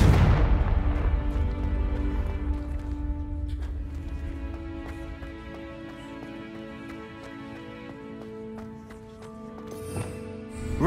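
Confringo spell blast in Hogwarts Legacy, a heavy booming explosion at the start that decays into a long rumbling tail with scattered clattering and ringing tones, and a fainter burst near the end.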